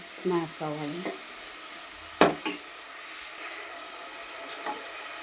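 Tomato being mashed and stirred in a frying pan for Nellore tamarind fish curry, with soft scraping and a sharp knock of the utensil against the pan, over a faint sizzle, voices and a faint high tone.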